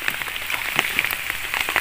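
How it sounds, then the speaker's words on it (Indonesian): Rain pattering steadily on a surface outdoors during a freshwater prawn fishing outing in West Kalimantan, with scattered close drop hits over a continuous wash. "Hujan. Hujan bro."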